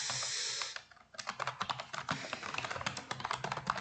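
Fast typing on a computer keyboard while entering Excel data for an ITQ practice task, a rapid, close run of clicking keystrokes after a brief hiss, with no talking.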